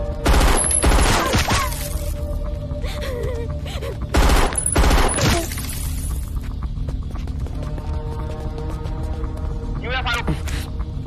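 Bursts of gunfire in a loud firefight, rapid clustered shots early and again around four to five seconds, with shouting voices and tense background sound in between.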